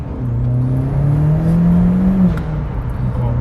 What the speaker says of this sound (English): But I love those turbo noises.